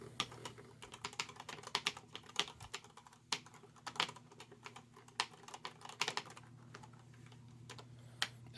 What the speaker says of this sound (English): The key switches are really nice, actually. I like typing on it.